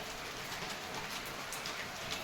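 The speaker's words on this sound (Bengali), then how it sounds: "আজকেও বৃষ্টি হচ্ছে বাইরে প্রচণ্ড বৃষ্টি" Steady, dense rain pouring down, a continuous hiss of drops hitting surfaces with no voices.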